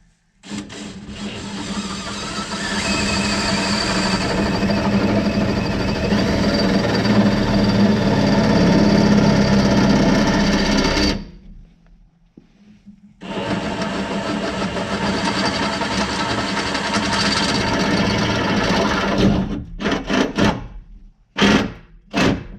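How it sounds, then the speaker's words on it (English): A steady, loud mechanical whir of a power drill boring into the body of a 1967 Ford Mustang for about ten seconds, a pause, then another long run ending in short stop-start bursts. "sometimes drilling a hole to your car hurts"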